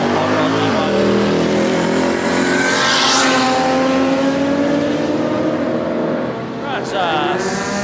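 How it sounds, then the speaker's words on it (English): A 1928 Ford Roadster hot rod drag racing roars at full throttle, a loud sustained engine note rising through gears, with an announcer talking over it. "Up against that early model Ford, the 1928 Roadster. Tough little hot rod"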